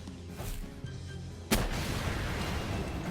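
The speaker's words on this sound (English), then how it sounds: "A rocket to the face." A rocket launcher fires a rocket in the video game Palworld: a sudden loud blast at mid-clip that leaves a dense roar trailing behind it, with quieter game ambience before the shot.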